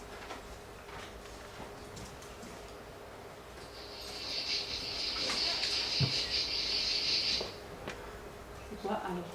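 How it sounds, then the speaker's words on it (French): Cicadas in Pasolini's film Oedipus Rex give a steady high shrill buzz that swells in for a few seconds mid-clip over a quiet background, then cuts off. "On a écouté les cigales."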